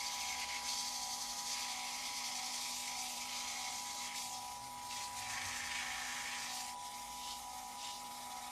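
Steady, quiet rubbing hiss of 400-grit sandpaper working an ornamental cherry wood vase, continuous and close with a faint machine hum underneath and no talking.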